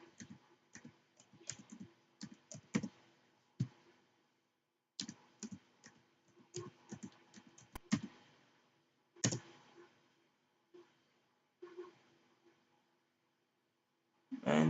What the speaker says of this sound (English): Now we will type VNC server